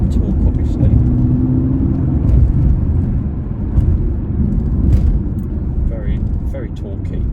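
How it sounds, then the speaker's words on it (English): A 2019 Audi A7 3.0 TDI Quattro twin-turbo diesel pulls hard with a low, steady engine drone and road rumble throughout, heard from inside the cabin as a person talks over it. "this car really does pull. It's got a lot of torque, obviously."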